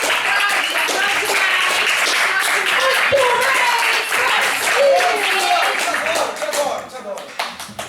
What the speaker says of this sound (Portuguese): E uma salva de palmas para o professor